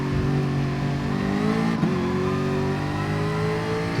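A race car engine in Gran Turismo Sport, at Sardegna Road Track during a manufacturer series race, drones loud and steady at high revs, dipping briefly around a gear shift before climbing again, with no talk.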